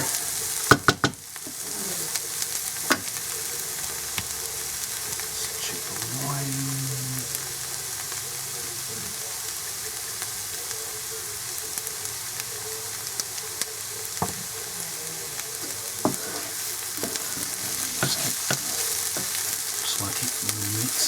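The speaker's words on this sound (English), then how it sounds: "we're going to saute this for another minute." Onions sautéing for chicken tikka, a steady sizzling fry in a pan with occasional scrapes and clinks of stirring, running continuously and fairly faint.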